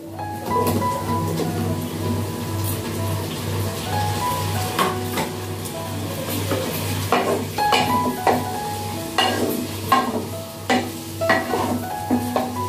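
Tomato and onions fry together in a pan for a chicken curry, a continuous sizzle under frequent spatula scrapes and taps against the pan, with a low steady hum beneath.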